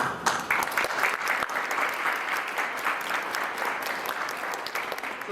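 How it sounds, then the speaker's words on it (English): A crowd at a Lunar New Year celebration inside the Missouri State Capitol breaks into sustained applause, a thick, even roar of many hands clapping at once, held at steady volume for several seconds. "and round of applause"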